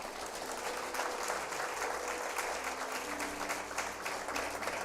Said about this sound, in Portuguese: Dê um aplauso ao Senhor aí.